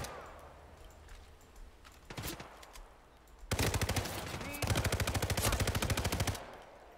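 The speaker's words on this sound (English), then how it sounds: "Someone is firing a weapon!" Gunfire in the video game Hitman 3: a brief burst, then sustained rapid machine-gun fire lasting several seconds, sharp and dense, fairly quiet overall with no speech over it.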